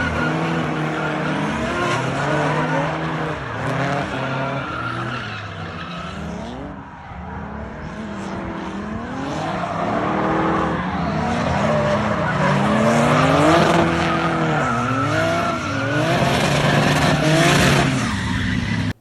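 A drift car skids hard through a long run, its tires squealing in sweeping, rising and falling wails over a constant engine roar, with no talking.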